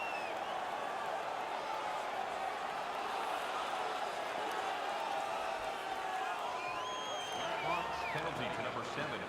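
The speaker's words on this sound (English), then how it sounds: "The home crowd is ecstatic. They're making all kinds of noise." A large video game hockey arena crowd roars and cheers continuously beneath an announcer's voice, with whistles and whoops rising out of the steady din.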